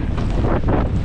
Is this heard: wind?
yes